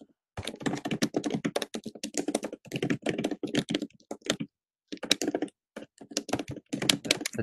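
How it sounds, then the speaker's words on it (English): Rapid clattering keystrokes on a computer keyboard, close and fairly loud, in bursts with short pauses between them. "The typing is loud."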